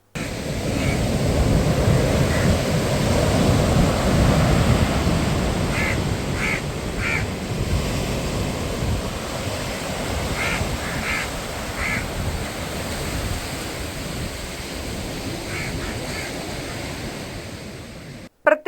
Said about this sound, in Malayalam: പ്രത്യേകിച്ച് യാതൊരു ലക്ഷണവുമില്ലാതെയായിരിക്കും തിരമാലകൾ ആഞ്ഞടിക്കുക